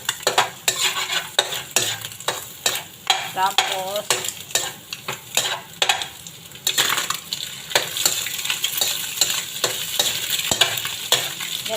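Garlic stir-frying in a pan, loud sizzling with frequent scraping and clinking of a utensil against metal; a voice speaks briefly.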